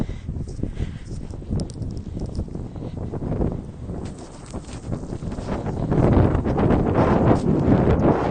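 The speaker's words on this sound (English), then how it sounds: "Oh, it's windy here." Strong wind buffets the microphone in continuous gusts on Île Saint-Louis in Paris, a loud low rumble that swells louder toward the end, with no one speaking.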